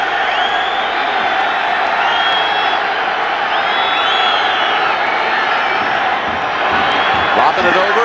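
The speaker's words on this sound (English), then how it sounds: "Finally, the crowd here coming to life" An NFL stadium crowd at a 2008 Miami Dolphins at New York Jets game keeps up a steady, distant roar of cheering. A commentator talks continuously over it.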